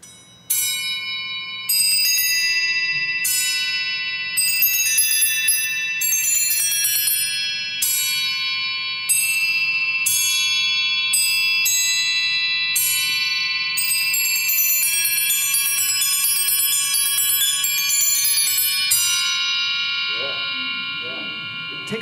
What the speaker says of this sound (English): you get this peal of bells, of a crotale, you know, kind of lick that Stan has to play